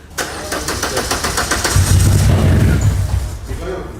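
An old car's engine cranks and catches after a coil swap, then runs rough and uneven with a low, lumpy rumble, close and loud, while a voice talks over the start.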